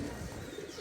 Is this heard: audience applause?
no